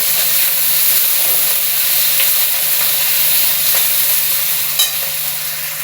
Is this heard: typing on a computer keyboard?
no